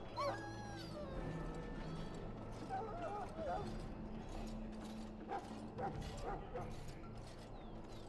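Dog in the video game Dragon Age: Origins, giving barks and soft whimpering yips over a game soundtrack, with a voice and some mechanical clanks in the mix.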